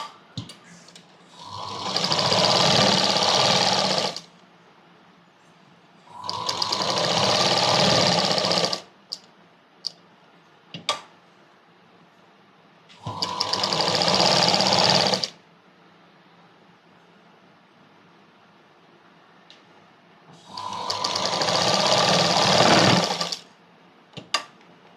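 An electric sewing machine stitches the square neckline of a Punjabi dress in four separate bursts of steady, close whirring, with quiet pauses between them.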